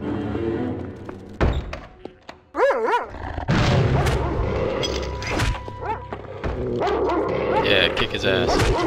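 Barking from a dog in the Nosferatu: Wrath of the Malachi video game, a few sharp yelps amid thuds and busy game noise, with a person talking over parts of it.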